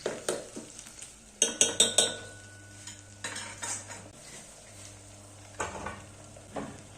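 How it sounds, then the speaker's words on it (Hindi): Onion and tomato sautéing in a pan for mustard greens curry, a low steady sizzle under repeated scraping and clinking strokes of a metal spoon stirring against the pan. "टमाटर भी इसी में मिला लेते हैं और इसे भी मिक्स करके हल्का सा भून लेते हैं"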